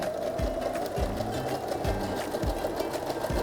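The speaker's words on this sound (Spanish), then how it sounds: "en este caso voy a usar mi máquina, le pongo entonces en el 4, vamos a hacer un zigzag y ahí vamos a darle costura" A sewing machine runs a zigzag stitch along a fabric lining, a steady close whirring with a regular thumping beat from the needle, loud and continuous with no talking.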